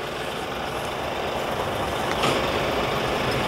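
A tow truck engine idles steadily at close range while a car stuck on Gdańsk tram tracks is hitched to it with a tow line, a broadband diesel rumble with a brief hiss of air near the end.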